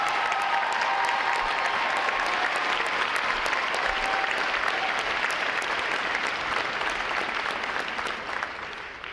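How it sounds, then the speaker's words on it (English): Sustained, heavy applause from a large crowd at a U.S. Navy recruit graduation ceremony after performances, a thick, uniform roar of clapping that holds steady and eases slightly at the end. "How about another round of applause for those outstanding performances?"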